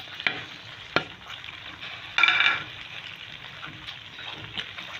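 Dry fruits such as pistachios and almonds are stirred into semolina halwa in a pan, giving soft scraping and stirring with a low sizzle, a brief brighter burst of frying midway and a few light knocks of the spoon.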